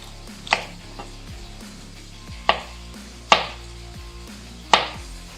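Knife chopping food into rough matchsticks on a board for home-cooked Chinese takeaway style chicken: four distinct sharp chops spaced irregularly, close and clear with no talk.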